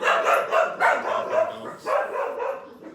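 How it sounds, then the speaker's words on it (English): Several dogs barking repeatedly in quick irregular bursts, close and fairly loud, with overlapping yips and no speech. "Dogs."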